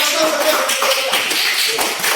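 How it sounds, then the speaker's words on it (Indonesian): Students clapping hands together in a classroom during a floor gymnastics lesson, a steady, close rattle of claps with a teacher's voice briefly heard over it. "Ya, tepuk tangan."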